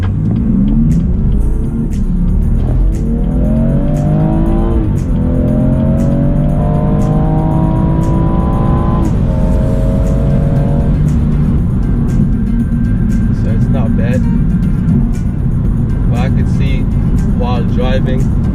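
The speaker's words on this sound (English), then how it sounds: "about to do the test drive and see how well it does on the road" A BMW M240i is driven on the road during a test drive, its rear suspension suspected of knocking. The engine note climbs repeatedly through the gears over a constant loud road rumble, with faint ticks and rattles later on.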